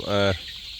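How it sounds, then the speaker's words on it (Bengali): A single short hen cluck, close and clear, followed by quiet background hiss, from chickens pecking at a container in a henhouse. "মুরগিগুলো এইভাবে ঠুকরাঠুকি করতেছে পাত্রে"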